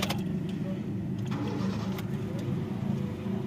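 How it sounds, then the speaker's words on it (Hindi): A 2004 Honda City sedan being cranked with its starter in neutral, a steady low mechanical churn and engine rumble close by, continuous and fairly quiet with no clear revving. "सलफ लगाओ गाड़ी को।"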